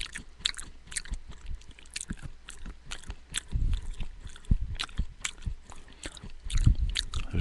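Someone chewing corn at breakfast, close and alone: irregular crunchy bites and wet mastication sounds with occasional louder crunches and no talking.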